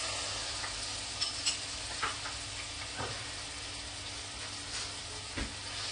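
Chopped onions frying in oil in a pan at the start of a hilsa fish curry, a steady soft sizzle with a few light stirring clicks, fairly quiet and close, no talking.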